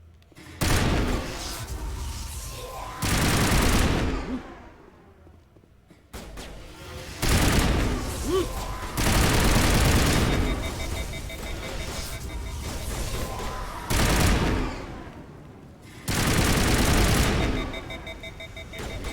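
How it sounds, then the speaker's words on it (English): Explosive rounds fire in bursts in the Mass Effect video game, several loud sustained volleys of rapid shots and booms separated by short quieter gaps, with faint talk in between. "We're definitely going to get a chance to try out these explosive rounds."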